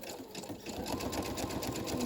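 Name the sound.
sewing machine stitching paper for a junk journal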